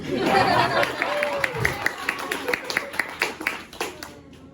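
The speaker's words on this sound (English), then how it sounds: "Pause for applause" A comedy audience breaks into applause during a stand-up set: a burst of clapping that thins into scattered individual claps, with some chatter and laughter mixed in.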